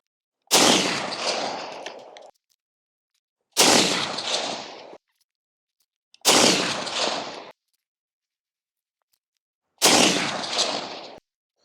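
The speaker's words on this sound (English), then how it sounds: "We'll fire our baseline here and then throw the can on." Four loud unsuppressed rifle shots firing Armscor M80 ball ammunition, each a sharp broadband crack trailing into a second or more of outdoor echo, spaced a few seconds apart with silence between.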